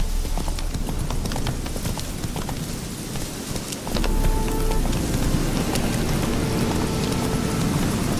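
Roach the horse's hooves clip-clop steadily in The Witcher 3, a close, continuous trotting rhythm that grows slightly louder midway, with faint rain-like patter behind and no talking.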